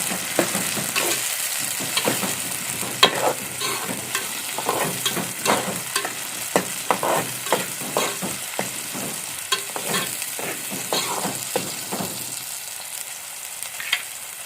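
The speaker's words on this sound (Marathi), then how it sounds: "कांदा तर व्यवस्थित भाजलं आता टोमॅटो टाकूया" Onions and tomatoes sautéing in a pan for a Konkan Malvani wet cashew usal, with steady frying sizzle and repeated stirring scrapes throughout, close and fairly loud, with no talking.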